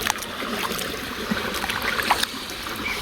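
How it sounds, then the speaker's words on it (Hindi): Raw mangoes being washed in water, with a soft, continuous splashing and trickling close by and occasional small clunks, no talk. "कैरी આપણે ધોઈ લેશું પાણી માં।"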